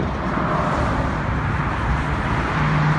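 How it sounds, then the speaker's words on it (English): Steady road traffic on the I-17 highway, a continuous broadband roar of cars with no distinct passes standing out, heard from nearby at a constant loud level. "Lots of traffic on I-17 as per always."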